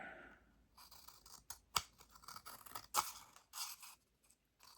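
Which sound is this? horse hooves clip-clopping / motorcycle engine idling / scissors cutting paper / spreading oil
scissors cutting paper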